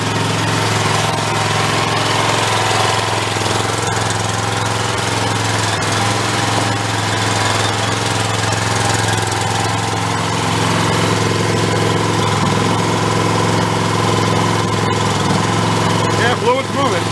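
A Chinese-made used skid steer's engine runs steadily at a rough, loud idle throughout, with people talking over the continuous mechanical drone.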